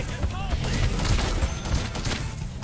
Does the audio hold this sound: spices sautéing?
no